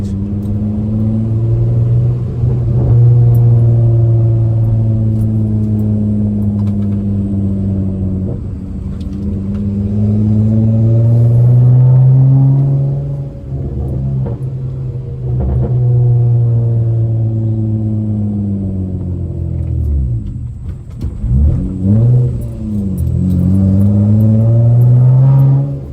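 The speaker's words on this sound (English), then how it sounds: "I'll let y'all hear the pops while we in the neighborhood." Straight-piped V6 manual Honda Accord tuned on 91+ fuel, loud engine drone rising and falling through gear pulls near the microphone, with brief crackling exhaust pops as revs drop around the neighborhood.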